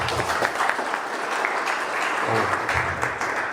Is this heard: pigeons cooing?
no